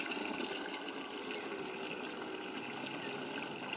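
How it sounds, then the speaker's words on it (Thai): An electric water gun sucks in water, a continuous close gurgling, rushing liquid intake with a faint pump-like drone, steady and unbroken, no talking. "ดูดน้ำก่อนใช่ไหม เออน่ะน้ำมันเข้ามาละ"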